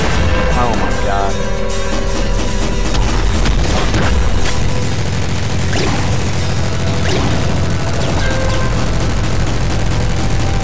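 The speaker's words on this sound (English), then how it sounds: "That nuke launcher hit us right in the beak, and we're almost out of ammo." Heavy booming blasts and crashes from the nuke launcher in the video game Nuclear Throne, a dense run of loud explosions with chaotic impacts layered over game sound effects.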